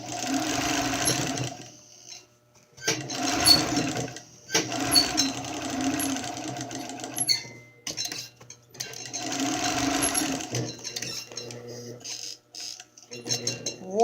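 Sewing machine stitching together the pieces of a fabric face mask, its motor whirring in loud bursts separated by short pauses, with light ticking and clinking between runs.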